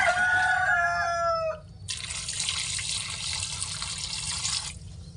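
Water poured into a cooking pot as fish roe is set to boil, a steady broadband rush of moderate loudness lasting about three seconds, preceded briefly by a high chirping bird call.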